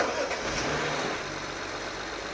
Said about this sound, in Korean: 이렇게 마무리하고 시동까지 켰는데, 시동 한번 켜봐